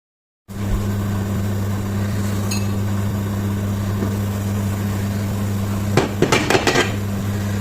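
A metal lid is set onto a cooking pot of anchovy fish curry, a quick cluster of clattering clinks near the end over a steady low hum from the stove.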